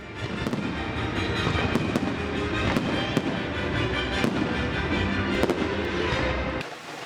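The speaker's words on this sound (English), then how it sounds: "fireworks" Continuous crackling and booming fireworks explosions at the Feast of Saint Alfio in Sicily, dense and loud, with sharp bursts scattered throughout before cutting off abruptly near the end.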